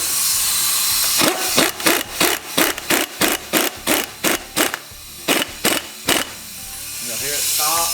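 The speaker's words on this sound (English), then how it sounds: "And then I impact it on and then I'll torque it later." Rapid pneumatic impact wrench bursts tightening the harmonic balancer bolt on a Ford 302 V8 engine build: about a dozen short, loud, evenly spaced hammering rattles, close up, with a brief pause before the last few.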